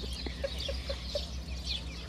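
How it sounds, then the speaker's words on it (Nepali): Several local black chickens give a short run of soft, evenly spaced clucks outdoors, faint against steady ambient background noise. "कुखुरा त टन्नै रहेछ त, कालो कुखुराहरू."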